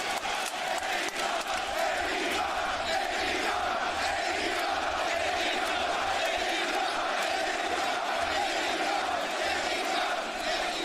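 A wrestling arena crowd in Newark, New Jersey, roars and cheers in a steady, dense wall of noise that continues throughout with no pause, loud and sustained.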